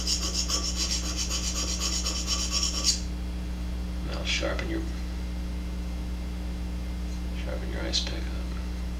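A knife stroked up and down on a GATCO diamond TRI-SEPS sharpener: a loud continuous rasping pass that stops abruptly, followed by two shorter, fainter scraping strokes over a steady low electrical hum.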